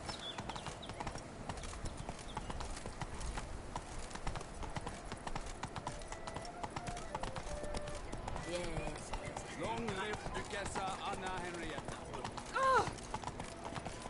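A horse gallops in the video game Witcher 3. The hoofbeats are fast and continuous throughout, mixed with game ambience and a brief voice near the end.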